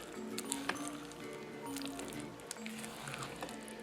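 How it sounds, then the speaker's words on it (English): Spatula stirring flour, water and yeast into a sticky no-knead bread dough, giving soft wet squishing and faint sticky pats close by at low volume. "I'm using a spatula to mix up and incorporate the flour."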